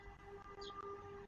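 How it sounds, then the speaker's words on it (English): Air raid sirens over central Kyiv sound faint and distant as a steady wavering tone over low city rumble, with no voices. "You guys are hearing sirens live right now."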